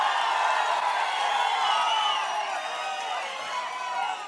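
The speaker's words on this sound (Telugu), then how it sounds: "మీరు కూడా గట్టిగా చప్పట్లు కొట్టి ఇలాంటి వాళ్ళకి" A crowd cheering and applauding at a political rally in Andhra Pradesh, a bright, sustained roar of voices and claps that stays fairly even and loud across the whole stretch.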